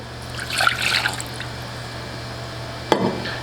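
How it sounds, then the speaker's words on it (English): Water trickles and splashes into a small pot in a kitchen, a soft brief pour followed by a quiet pause and a single sharp clink. "in a small pot, we are going to add our water"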